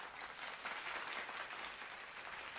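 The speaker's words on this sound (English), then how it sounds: "a little bit of mom applause for every mom who's out there and deserves applause" Canned applause sound effect played in a tribute to mothers: a steady, dense wash of clapping at even, fairly quiet loudness throughout, with no voices.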